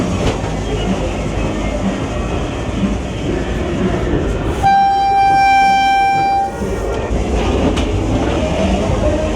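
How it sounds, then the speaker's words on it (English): A ghost train ride at Nottingham Goose Fair rumbles and clatters loudly and steadily, with a sustained horn-like tone sounding for a couple of seconds midway through. "They have, I think, at least 4 ghost trains here at the Goose Fair"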